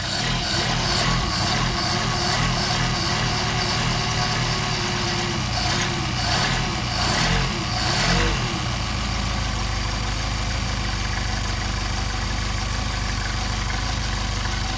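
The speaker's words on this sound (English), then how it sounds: "But you already tell it idles really nicely" A car engine with a Solex carburetor idles steadily up close, a smooth continuous rumble with no revving, running alone throughout.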